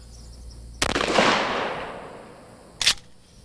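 A 12-gauge shotgun fires number 9 birdshot into soft body armor on a mannequin: a sharp blast with a long decaying tail, then a second short loud crack about two seconds later.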